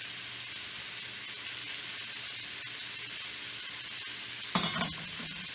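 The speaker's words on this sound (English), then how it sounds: "we're going to saute a little red cabbage. And to get that nice and hot" Red cabbage sautéing in a hot pan for an Italian sausage dish gives a steady, even sizzle with soft stirring, then a louder burst of sizzle and clatter near the end as the cooking picks up.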